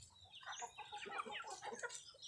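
Black Australorp and Rhode Island Red hens cluck in a steady, busy chorus of short overlapping calls, fairly close, with no talking.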